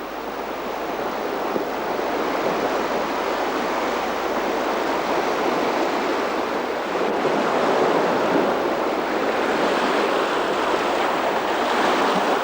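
Sea waves wash steadily onto the Purtse seashore in Estonia, a continuous broadband roar of surf with some wind noise, fairly loud and unbroken throughout, with no voices.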